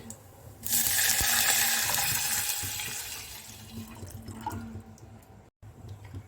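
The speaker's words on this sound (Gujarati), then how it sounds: "હવે આપણે તેમાં છાશ એડ કરી દઈશું" Buttermilk diluted with water pours in a steady splashing stream into a pot for a couple of seconds, then tapers off into light trickles and a small clink.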